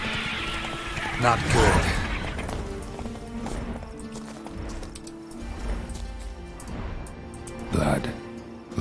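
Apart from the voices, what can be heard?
Geralt's horse Roach galloping in the video game The Witcher 3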